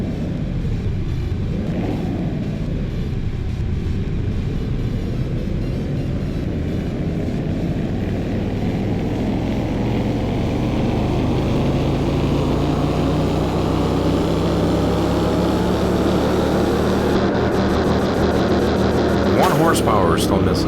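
Car engine revving on a dyno in Car Mechanic Simulator 2021, a loud steady roar climbing slowly in pitch over about twenty seconds, ending with a shift or cutoff near the end.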